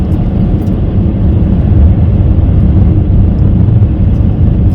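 Car driving on a snowy, slippery Minnesota highway in winter: a loud, steady low rumble of engine and tires on the road, unbroken and even throughout.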